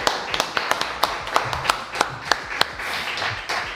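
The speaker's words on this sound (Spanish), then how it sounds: "Este aplauso es para Duca" Scattered audience applause at a live talk show recording, sharp individual claps rising over a low room murmur and fading toward the end.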